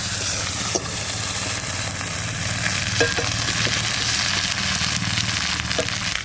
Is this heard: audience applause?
no